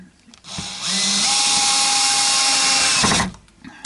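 A power driver spinning temporary screws into a Stratocaster-style guitar during a refurbishment: a single steady whine of about two and a half seconds, starting and stopping cleanly, close and loud in a quiet workshop.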